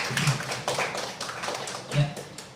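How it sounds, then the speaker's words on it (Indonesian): Teachers clap in a short, scattered burst of applause after a winner is announced, uneven taps with a couple of louder hits. "Tepuk tangan."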